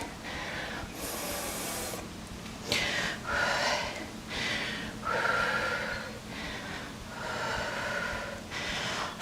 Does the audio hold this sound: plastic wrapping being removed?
no